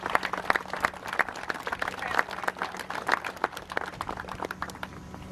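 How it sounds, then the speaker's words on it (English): Audience applause at the S307 locomotive powerup ceremony, a moderate crowd clapping with distinct, closely spaced claps in an uneven rhythm, fairly near and sustained without speech. "I think we need a huge round of applause to John and his team"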